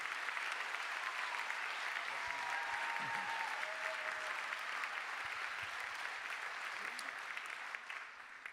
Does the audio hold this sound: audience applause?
yes